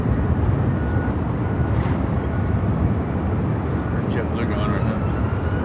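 A jet airliner takes off at Phoenix airport, a loud, steady broadband roar that holds throughout, with air-traffic radio talk over it.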